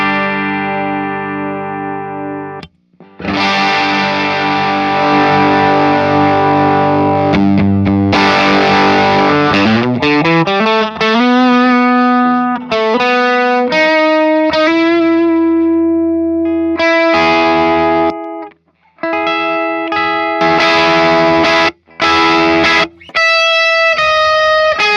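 Electric guitar, on a new Telecaster, driven through a fuzz pedal in its low gain mode rings out in sustained, buzzy chords and sliding notes, loud and close, with brief pauses between phrases and no voices.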